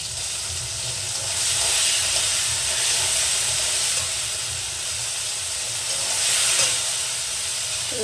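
Tomatoes and salt fry in a pan for a fasa fish curry with yam, giving a continuous steam-like hiss and sizzle that swells and eases a little.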